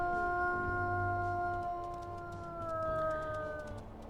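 Animal howls ring out in a video game, a few sustained steady tones layered together that slowly drift downward over a low ambient rumble, fairly close and without speech.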